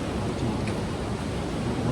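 A dense, steady rush of rainfall on the steep, snowy mountain trail to Hemkund Sahib fills the short stretch, a broad low-heavy hiss with no voices.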